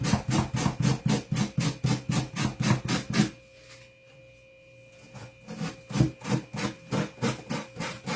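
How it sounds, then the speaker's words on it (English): A sanding block rasps the edges of a glued, Mod Podged craft project in brisk, regular back-and-forth strokes. The strokes are close and loud, stop for about two seconds, then resume at the same steady pace. "I'm just using a sanding block I picked up at Walmart."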